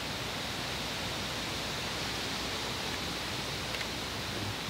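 Steady broadband wash of flowing water from a River Thames backwater, continuous and even throughout, with no voices over it.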